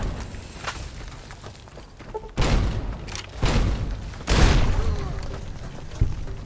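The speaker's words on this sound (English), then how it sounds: "I'm pretty positive that that shot the dynamite and blew them up" Dynamite blasts in the video game Fallout: New Vegas, a series of loud, close booming bursts that hit around two, three and a half, and four and a half seconds, each trailing off with rumble amid scattered gunfire-like thuds.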